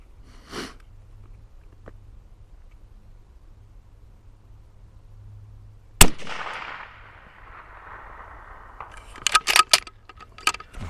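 A rifle fitted with a Riton 7 Conquer 3-18x scope fires one loud, sharp shot with a trailing echo midway, preceded by a fainter early crack and followed by quick metallic clinks near the end.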